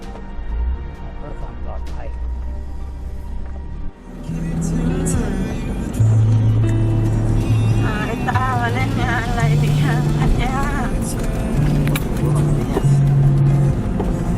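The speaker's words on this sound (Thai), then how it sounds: "ขับสี่ขึ้นเขาอย่างนี้ ต้องเว้นเว้นระยะนิดหนึ่งนะครับ" A four-wheel-drive vehicle climbs a mountain road, its engine droning steadily and loudly from inside the cab, with a brief dip and then a stronger rise in power as someone speaks over it.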